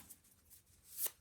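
A stiff new Rider-Waite tarot deck is shuffled by hand, giving soft papery riffles and a brighter snap near the end, brief and close.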